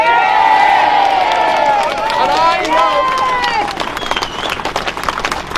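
A large crowd at a Scottish independence rally cheers and applauds, loud and continuous, with shouts and whistles over steady clapping that thins slightly toward the end.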